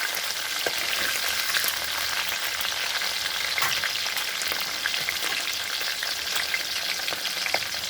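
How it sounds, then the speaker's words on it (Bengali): Chili and vegetables frying in a pan for a spinach dish, a steady close sizzle and crackle that holds throughout, with occasional stirring clicks and no voices. "এখন একটু ভেজে নিই।"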